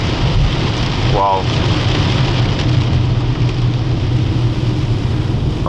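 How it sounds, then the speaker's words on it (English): Heavy rain pours down hard in a sustained, loud roar with a rumble of distant thunder, and a person briefly exclaims over it. "you can't compare this rain to the rain in Germany, because this is way more and way harder"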